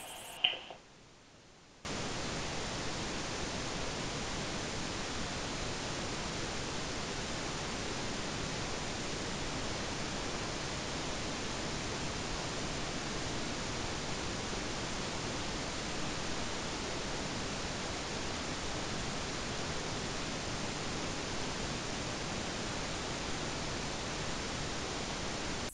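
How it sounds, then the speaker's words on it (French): Steady broadband hiss of white noise fills a haunted house during a paranormal investigation, starting abruptly after a brief quiet moment and holding constant and loud throughout. "Là, j'entends un bruit blanc."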